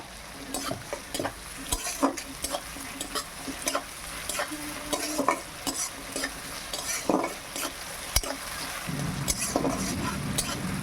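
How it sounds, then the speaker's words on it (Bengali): Salted onions fry in a pan while being stirred, with rhythmic spoon scrapes and knocks over a steady close sizzle that grows fuller and louder toward the end. "পেঁয়াজটা ভালোভাবে ভাজা হয়ে গেছে"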